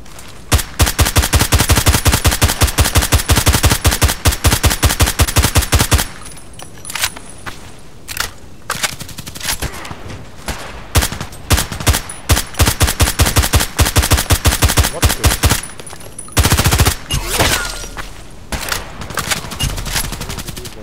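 An SR3M compact assault rifle in the Contract Wars video game fires loud, close bursts of rapid automatic gunfire, with a long opening burst followed by shorter bursts, scattered shots and pauses.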